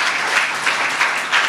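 A congregation claps together in praise of God at a worship gathering, a dense, steady wash of applause lasting a moment with no voices over it.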